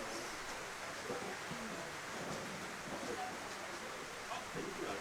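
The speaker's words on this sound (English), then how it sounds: "The rain has well and truly come down here at Richmond." Rain falling at Richmond during a first-grade match, heard as a continuous broadband hiss with faint voices and sporadic knocks underneath.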